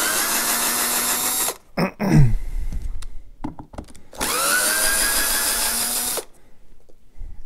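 A power drill backs screws out of a Sonart PA tower speaker in two long, loud, close whirring runs that rise in pitch as they spin up, separated by clunks and brief handling knocks.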